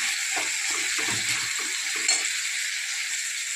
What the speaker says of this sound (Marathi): आता टाकत मी थोडंसं मिक्स करायचं दोन मिनटं असं परतून घ्यायचं आपल्याला